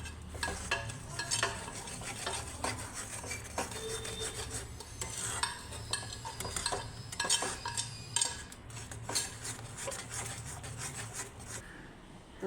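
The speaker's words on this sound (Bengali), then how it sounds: "তো তালের মিশ্রণটা করে রেখেছিলাম, এখন এটাতে ঢেলে দিচ্ছি, মিক্স করে নেব একসঙ্গে।" A spoon stirs a palm fruit ice cream mixture with pumpkin seeds and cardamom in a pot: steady, close scraping and rubbing that continues throughout, with scattered knocks against the vessel and no voices.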